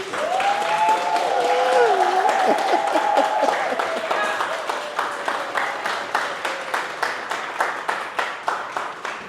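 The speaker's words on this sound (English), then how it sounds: "If you guys enjoyed it, can I just get a round of applause, please?" A workshop audience applauds at the end of a session, loud dense clapping with cheering voices early on, gradually thinning into rhythmic claps that fade toward the end.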